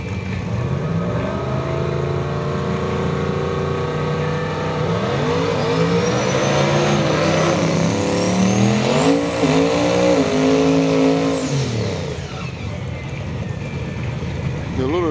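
Drag racing cars on 275-50 and 275-60 tires rev and accelerate hard at a street-car event, their pitch climbing steadily over several seconds before easing off, with voices talking underneath.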